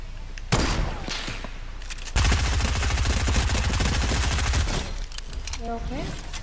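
Rapid SMG gunfire in Fortnite, a loud continuous burst of automatic shots lasting a couple of seconds, with scattered game effects and shots before and after it.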